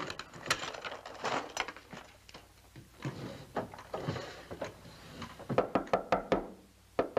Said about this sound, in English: You don't have to knock a door down.